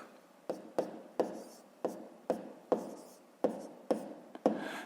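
A pen taps and scratches on paper as a long division is written out by hand, about ten short distinct strokes in an uneven rhythm, close and quiet.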